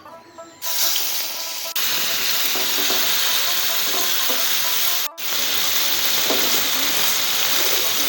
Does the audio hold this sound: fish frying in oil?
yes